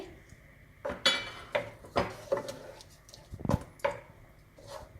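Paneer cheese cubes are tipped into cooked spinach and stirred in a pan, giving a series of sharp clinks and knocks from the spoon against the pan at uneven intervals, with no talking.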